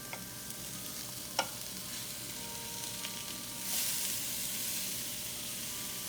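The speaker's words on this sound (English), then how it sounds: "So after letting that saute down a bit with the seasonings" Seasoned food sautés in a pan with a soft, quiet sizzle and occasional utensil taps. Midway the frying swells into a louder, brighter hiss that then holds steady, with no voices.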